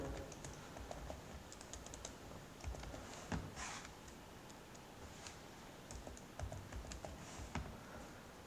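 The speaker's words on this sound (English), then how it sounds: "Just click over here and type whatever you want." Steady typing on a computer keyboard while text is entered into a spreadsheet cell, with quick, light clicks running continuously at a moderate pace, close and fairly quiet, no voice.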